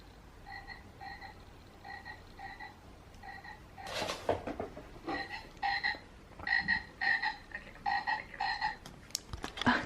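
A frog toy's recorded croaking plays from a laptop speaker in a quiet room, a series of short, bright croaks repeating in uneven bursts, fairly faint, with a few soft knocks between them.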